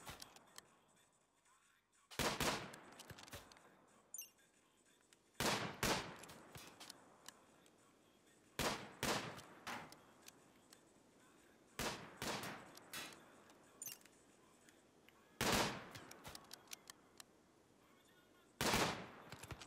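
Turret fire in the Rimworld console game: repeated loud bursts of automatic gunfire in separated volleys, each lasting about a second, over a faint background, with a voice now and then.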